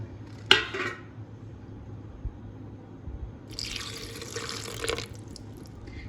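Milk poured over dry fruits and nuts for a shake: a sharp clink near the start, then a soft splashing pour of a second or so, over a low steady background hum.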